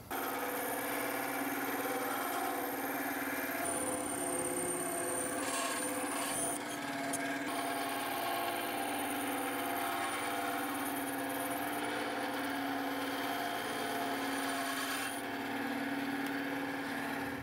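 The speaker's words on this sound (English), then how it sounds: "I think I'll use the bandsaw to cut this out." A bandsaw cuts a Batarang shape out of stock for a Halloween costume, its steady high-pitched motor whine running continuously with rubbing blade noise that shifts slightly as the cut progresses.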